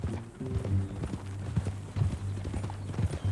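Horse hooves clip-clop steadily on the ground in the Red Dead Redemption 2 video game, a close, even rhythm of hoofbeats under a low droning background.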